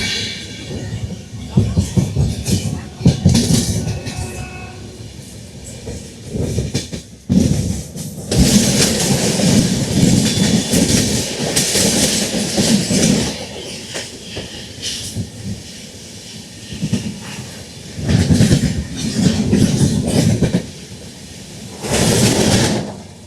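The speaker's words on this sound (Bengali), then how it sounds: "বন্ধুরা, ক্রসিং হবে 12381 পূর্বা এক্সপ্রেসের সাথে।" Indian Railways 12381 Poorva Express passing a moving train at a crossing on the Howrah–New Delhi route via Gaya: loud, steady rumble and clatter of the passing coaches, with rushing wind, surging and easing over about twenty seconds.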